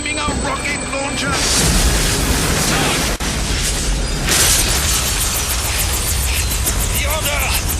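A rocket launcher blast in the LEGO Batman game, heavy booming bursts and rumbling debris filling the span loudly, with game voices partly under the noise.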